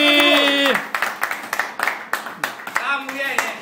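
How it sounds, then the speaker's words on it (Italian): Friends break into steady rhythmic clapping at a child's birthday party, a brisk run of close, sharp claps following a drawn-out shouted voice, with talk continuing over the beat. "Ragazzi, un applauso a Martino"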